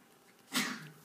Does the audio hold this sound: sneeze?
yes